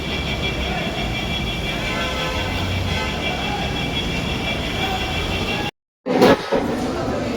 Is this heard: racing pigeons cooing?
no